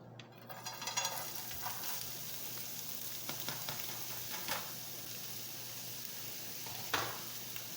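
Vegetables fry in sesame oil in a pan for chicken fried rice, producing a continuous close sizzle with occasional clatters and scrapes of stirring, including a sharper knock near the end.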